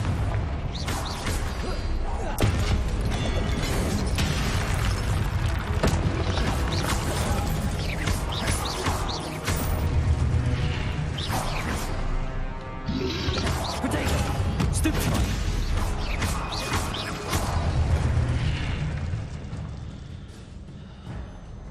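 Fire spell explosions from the Hogwarts Legacy video game, a dense, continuous run of booming blasts and crashing impacts, loud and close, layered with game effects.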